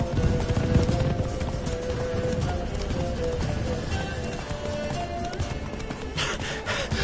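The horse Roach gallops in a video game, with quick rhythmic hoofbeats against steady background noise and no talk over them.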